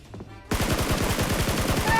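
Rapid automatic gunfire from PUBG Mobile, a dense burst of shots in quick succession that starts abruptly after a brief quiet moment and continues loud and steady to the end.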